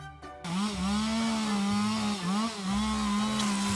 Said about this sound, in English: A chainsaw. I got you a chainsaw. Perfect. Let's get slicing.